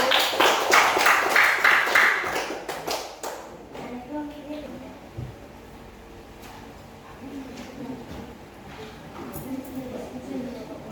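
Applause in a classroom for a student group, brisk clapping for about two seconds that fades out, followed by quiet room sounds, scattered thumps and murmuring voices.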